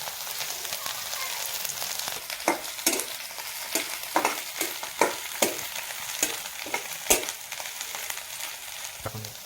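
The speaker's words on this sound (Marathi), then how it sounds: "त्याला चांगला मिरचा आपण भाजून घेऊ" Green chilies roast in a pan for a dry dingri (radish pod) vegetable dish, with a continuous soft sizzle broken by repeated sharp clinks and scrapes of stirring, close and moderately loud with no talk.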